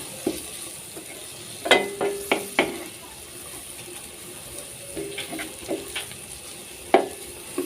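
Vegetables for fried rice cooking over medium heat in a pan, soft sizzling broken by several sharp spatula knocks and scrapes against the metal as they are stirred, close up and without talk.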